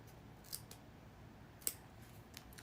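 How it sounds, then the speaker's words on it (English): Small scissors snipping tags off the edge of a placemat tote bag beside its binding, three crisp close snips spaced apart against a quiet background. "I'm just going to use my little scissors and go right at the edge"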